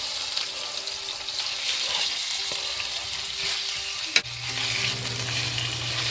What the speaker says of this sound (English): And then slowly fry the bacon until the bacon become mostly crisp